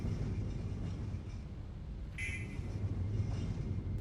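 A train in the video game Threshold rumbles with a steady low, continuous roar, and a brief higher-pitched squeal or whistle-like tone cuts in partway through.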